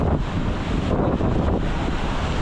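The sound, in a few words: southwest monsoon wind at sea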